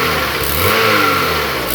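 A Honda Accord with reversed TPS and MAP connectors running loudly nearby, its engine note rising and falling as it revs steadily for a couple of seconds, with no voices over it.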